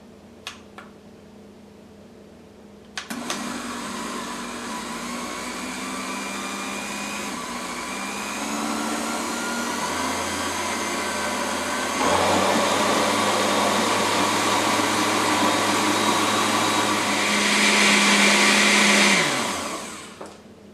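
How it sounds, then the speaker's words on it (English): An electric blender switches on abruptly and runs loud and steady while mixing pumpkin cream cheese flan ingredients, its whir rising in pitch as the speed moves from medium to high, then cutting off near the end. "mix all the ingredients starting with medium speed to high speed until a smooth consistency is formed"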